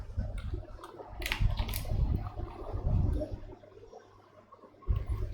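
Someone types a command into a computer terminal, a run of close, quick keyboard clicks in uneven bursts with a short pause before a final few keystrokes.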